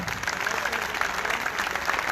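A gathering at a parish service applauds, a steady moderate clatter of many hands clapping throughout, with some voices mixed in.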